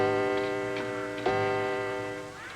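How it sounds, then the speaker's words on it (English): A clock on a parade float chimes with a sustained, ringing bell-like tone whose strikes blend into one another, loud and close, with a fresh strike midway through that slowly fades. "Suddenly, the clock struck 3."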